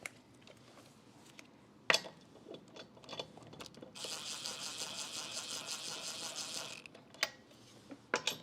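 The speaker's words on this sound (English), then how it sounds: "I'm going to take my ratchet and tighten it up while it's still in the air" A hand ratchet clicks steadily for a few seconds while tightening lug nuts on a raised Toyota Prius wheel, fairly quiet, with scattered handling clanks before and after.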